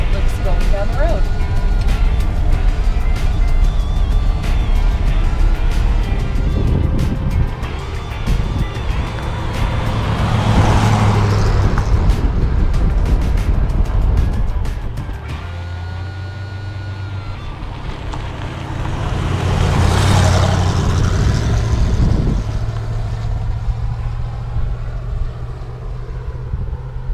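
A 1970 Ford F100 pickup truck rolls down the road with a steady low engine drone and broad road and wind noise, swelling twice as it passes, with people talking over it.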